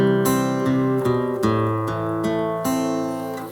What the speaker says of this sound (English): If I turn this reverb off, the guitar sounds like this.